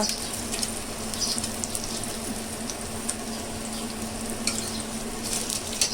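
Fish fillets fry in a pan of hot oil for a Malvani-style fish fry, giving a steady, close sizzle with small crackles and occasional scraping of a utensil throughout, no voices.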